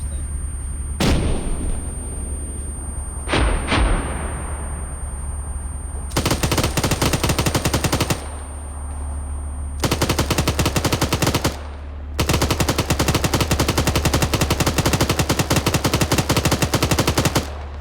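Tank machine gun fire in a Desert Storm-era combat video game, with a Scorpion light tank: a couple of sharp single shots, then three long rattling bursts of rapid automatic fire, loud and close over a steady engine drone.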